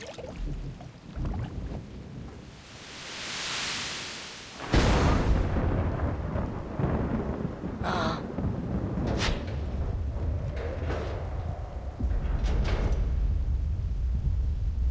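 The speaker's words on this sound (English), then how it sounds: "Then a loud thunder." Thunderstorm in the video game Reverse: 1999, a rolling rumble building then a loud crack of thunder followed by sustained heavy storm noise.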